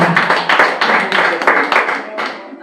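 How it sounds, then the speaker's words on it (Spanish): An audience at a religious service claps in quick, rhythmic bursts, a close, lively round of applause that pulses steadily before thinning out toward the end. "Dale un aplauso a Cristo"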